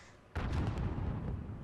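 Mortar fire in Call of Duty: Modern Warfare on the Highway of Death: a single deep, sudden blast followed by a sustained rumbling roll, loud and close with no talking.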